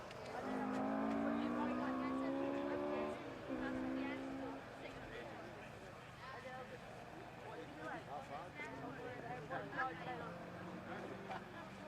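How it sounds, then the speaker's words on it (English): A naturally aspirated car engine roars nearby, its pitch climbing for a few seconds, then a person talks while the engine noise continues more quietly underneath. "I can hear the roar of a naturally aspirated engine not far away"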